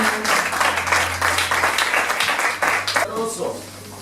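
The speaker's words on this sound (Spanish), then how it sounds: "Dele palmas, hermano." A church congregation claps along in steady rhythmic applause, loud and close, with voices mixed in beneath, fading slightly at the end.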